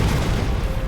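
Assault fire weapons in Sunrider Liberation Day let loose a dense, rumbling burst of booms and gunfire that lasts the whole second, loud and heavy in the low end with no voices.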